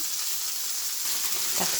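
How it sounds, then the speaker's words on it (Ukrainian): Beef and onions sizzle in hot oil, or a half-and-half mix of butter and oil, in a pan for quick beef stroganoff. There is a steady, close, hissing fry throughout with a slight stirring shuffle near the end and no talk. "Я смажу на олії, ну бажано масло з олією напополам."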